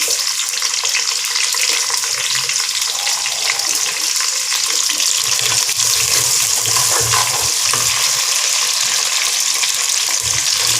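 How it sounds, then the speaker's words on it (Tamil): Small onions frying and sizzling in a hot pan for a stingray fish curry, a loud steady hiss with occasional stirring scrapes and no talk throughout. "இப்போ வெங்காயத்தை போடுவோம், சின்ன வெங்காயத்தை."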